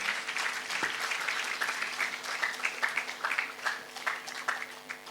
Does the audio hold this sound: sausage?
no